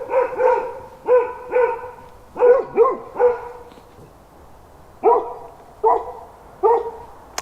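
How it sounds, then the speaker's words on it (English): A couple of dogs bark behind a fence outdoors, somewhat close, in repeated double and single woofs with gaps between bursts. "That's a couple of dogs behind me."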